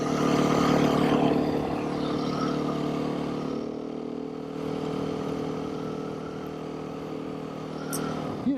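A rebuilt Beta 390 motorcycle engine idles high with its RPMs stuck up, giving a loud, steady close-up drone with a slight rasp that eases a little after the opening seconds.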